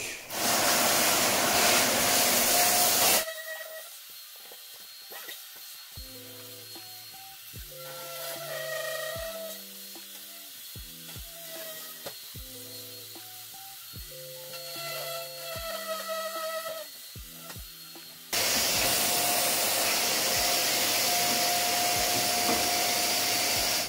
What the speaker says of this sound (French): Je vais percer ça avec une mèche de 6 sur la disqueuse et une mèche de diamant